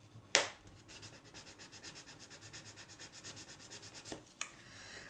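Close, quiet rhythmic rubbing of a tool burnishing glued paper, a soft repeated scraping stroke with a sharp tap near the start and a couple of light knocks near the end.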